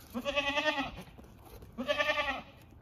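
A kid of a hornless goat bleats twice, two clear wavering cries close by with a short pause between them.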